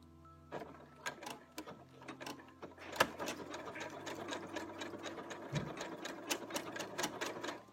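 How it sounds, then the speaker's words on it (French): A sewing machine runs a zigzag stitch attaching elastic to a trouser hem, rapid mechanical rattling in short bursts and longer runs with sharp clicks and pauses, close and alone. "Important quand vous allez coudre que côté gauche de notre point zigzag tombe au milieu de l'élastique"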